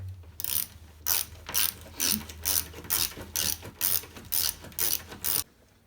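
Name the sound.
ratchet tightening bolt for flat screen TV wall bracket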